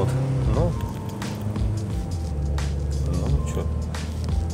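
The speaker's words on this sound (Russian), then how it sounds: "прям берет машина неплохо" A UAZ with an automatic transmission pulls away with a steady, loud engine drone that builds through the run, and someone talks briefly over it.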